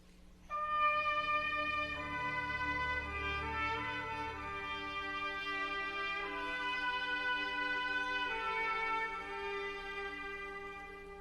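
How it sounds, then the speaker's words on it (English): A Respighi orchestral passage in which a distant backstage trumpet solo sings over high, muted strings, with long sustained tones that stay soft and steady throughout and no talking. "one of his most effective devices is a backstage trumpet solo"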